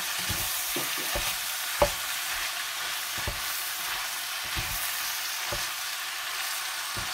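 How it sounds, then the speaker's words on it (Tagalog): Ground pork or beef with plenty of fat frying in a pan while being stirred: a dense, steady sizzle with scraping strokes and a few sharp clicks, close and even throughout. "Halo-haloin din natin. Para masangkot sa natin yung ating giniling."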